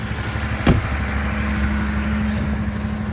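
A 2014 3-liter EcoDiesel engine idles steadily after a cold start in about 3-degree weather, a low constant rumble with one brief sharp click near the start.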